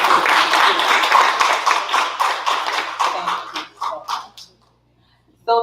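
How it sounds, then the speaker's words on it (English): A business event audience claps for a presenter, lively clapping with distinct individual hand strikes that thins out and stops, followed by a brief pause before a sudden new sound at the end. "can you please give a round of applause for this?"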